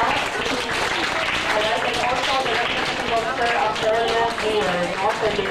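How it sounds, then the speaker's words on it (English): A room of grade 6 students and teachers applauds at a school values education gathering, a dense steady wash of clapping that holds for several seconds, with voices mixed in beneath it. "Please clap our hands"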